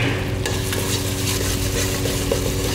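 Onions, ginger and garlic fry in hot oil for a fish curry, producing a loud, continuous sizzle with steady stirring scrapes close by and no talking.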